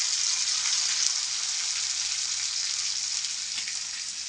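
Curry leaves and a bay leaf frying in hot oil make a continuous bright hiss and sizzle, steady and close, with faint crackles and no voices.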